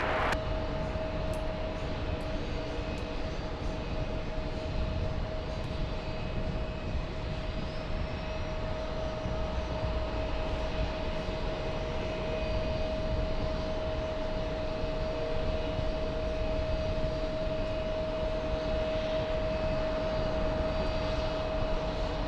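A heavy jet airliner on approach to land on runway 22 left, its engines producing a steady, loud roar with a sustained whine, continuous from start to finish without talk.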